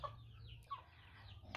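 Chickens cluck faintly in a few short, soft calls over a quiet low hum, close by, with no talk.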